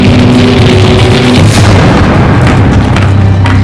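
Loud, continuous roaring rumble with crackling bursts and booms, like a massive explosion followed by sustained blasts, heavy and close.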